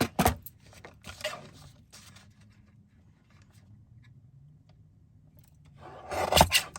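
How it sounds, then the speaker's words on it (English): Paper card stock of a handmade matchbook card being trimmed, with two bursts of rasping cuts at the start and end and quiet low rumble in between; no talking. "We can trim this off now. So let's go ahead and trim this."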